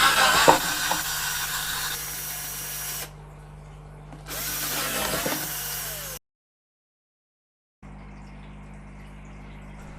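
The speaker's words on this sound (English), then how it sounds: "I started drilling with small drill bit, and then I switched to a bigger drill bit" A power drill drills holes for an aquarium overhead sump filter, whining steadily in bursts, stopping and restarting between runs, with a low motor hum underneath and a brief silent gap.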